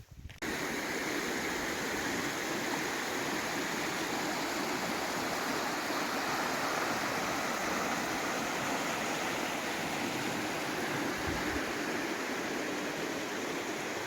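Rushing water of a river between Seatoller and Grasmere flows steadily nearby, a constant broad roar like a fast stream, unchanging from start to end.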